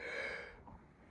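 A single soft yawn, breathy and drawn out, trailing off after about half a second, close and faint.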